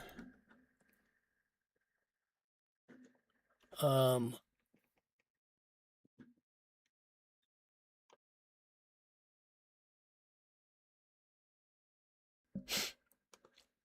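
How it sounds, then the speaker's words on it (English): One loud, sharp sneeze bursts out in near silence, followed by a quieter second burst about eight seconds later, with faint small noises in between. "I had a sneeze, and I might have another one."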